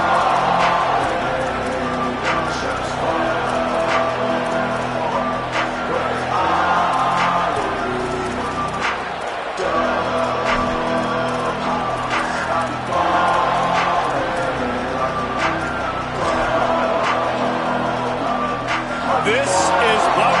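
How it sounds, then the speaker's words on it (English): Loud, roaring stadium crowd at a college football game, a dense continuous wall of cheering and yelling that stays strong throughout, with a sports commentator talking over it. "This crowd ready to make its presence known."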